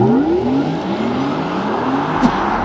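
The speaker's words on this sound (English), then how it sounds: "They blend in very tastefully some artificial motor noise." A Porsche Taycan electric car accelerates on a mountain road, its synthetic motor tone rising in steady sweeping pitches over road and wind rumble, loud and close throughout.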